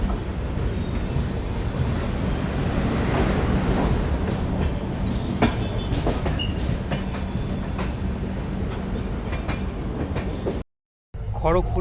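A passenger express train pulls out of Kharagpur station on the Digha to Visakhapatnam run, with a steady loud rumble and rattle of rail cars throughout and a faint voice in the background, then a brief cut to silence near the end.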